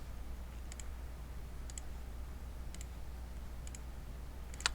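A computer mouse gives small, crisp clicks, usually in quick pairs, spaced about a second apart and heard close against a low steady hum, with no talk.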